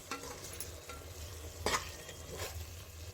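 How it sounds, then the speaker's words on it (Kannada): Fried egg is stirred slowly into a pan for egg rice bath, soft scraping strokes and a few brief scrapes over a quiet, low sizzle. "ಮೊಟ್ಟೆನ ಸೇರಿಸ್ಕೊಂಡು ಒಂದ್ಸಲ ನಿಧಾನವಾಗಿ ಮಿಕ್ಸ್ ಮಾಡಿ."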